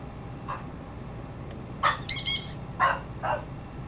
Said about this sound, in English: There's dogs and the birds barking.